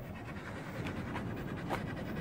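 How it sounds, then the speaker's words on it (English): A dog pants steadily and fairly loudly up close for a couple of seconds on a walk through wetlands near a beach, with no talking over it. "No heavy panting."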